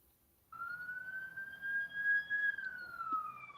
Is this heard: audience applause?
no